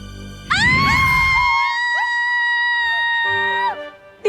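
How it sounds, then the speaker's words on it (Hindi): A woman gives a long, high, sustained scream in a dramatic TV superhero show scene. The single loud cry holds its pitch for several seconds before breaking off. "क्यों चिल्ला रही हैं आप?"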